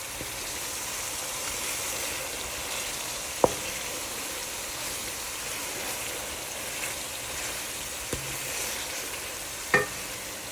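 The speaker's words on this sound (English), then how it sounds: "As the spices are cooking, we want to keep stirring so that they don't stick to the bottom." Spices sizzle steadily in a pan while Pakistani-style rice with chickpeas is cooked, a continuous soft frying hiss with a few sharp knocks of the stirring spoon against the pan, close and moderately quiet, no talking.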